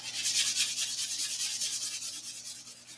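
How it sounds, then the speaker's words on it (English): Steady rhythmic rasp of a sanding block working green acrylic filler off a car body panel, repeated close strokes, loud and continuous with no talking. "we're just block sanding it off"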